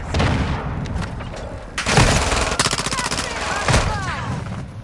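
Rapid video game gunfire crackling in sustained bursts, with dense automatic volleys and a few louder booms, played fairly loud under occasional talking.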